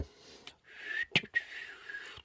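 A person whistles a short, wavering tune of a few sustained notes broken by brief gaps, close and fairly clear, with no talking over it.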